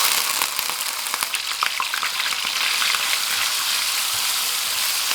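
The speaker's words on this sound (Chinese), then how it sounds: "起锅放油，油热后加入220克的猪肉馅儿" 220 grams of minced pork fries in hot oil in a wok, giving a loud, dense, continuous crackling sizzle that holds steady throughout with no voices.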